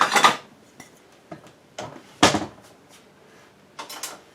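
A few sharp clatters of crockery and cupboard knocks as a plate is taken from a cupboard, close by, spaced irregularly with quiet gaps between them.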